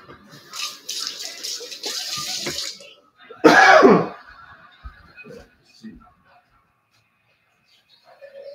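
Water is poured into a crock pot of beef stew, with a rushing splash for a few seconds and then a short, louder gush before it trails off into quiet.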